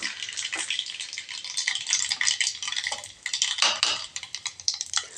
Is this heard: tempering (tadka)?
yes